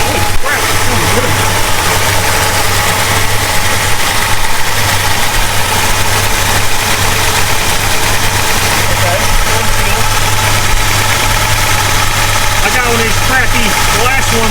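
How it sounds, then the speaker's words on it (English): A 1969 Plymouth Road Runner 440 V8, first started after 20+ years sitting, idles loud and close with a steady, slightly lumpy rumble that holds throughout, with voices faintly underneath. "I don't know if you can hear me or not over the engine."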